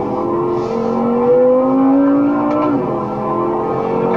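A BMW M6 Gran Coupe accelerates at full throttle down the long back straight of the Circuit of the Americas, engine note climbing steadily and loud throughout, with a quick gearshift dip near the end before it pulls hard again.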